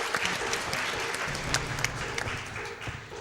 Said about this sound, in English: I think it's worth clapping